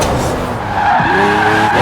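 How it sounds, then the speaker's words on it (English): A Lamborghini Aventador drifts on a British motorway in Forza Horizon 4, tires skidding with a loud, sustained squeal over engine roar. "Let me perform a drift here."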